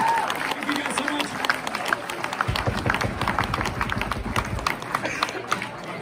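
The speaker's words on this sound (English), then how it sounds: "let's get another round of applause for Matt" A live comedy-style talk audience gives a steady round of applause for Matt, a palaeontologist speaking about Jurassic Park. The clapping is dense and continuous, with voices talking and calling out over it.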